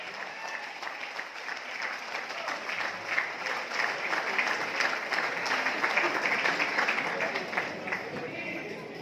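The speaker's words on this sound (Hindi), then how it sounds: "हाथ ऊपर करके जोरदार तालियां" Loud, sustained applause from an event audience gathered for a rice bran oil company function in Dhuri, with dense steady clapping that swells slightly midway and carries on throughout.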